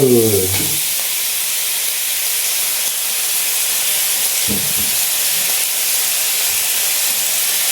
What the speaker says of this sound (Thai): ใส่เยอะๆไปเลยใบกะเพรา แล้วก็ผัดมาแรงๆเลย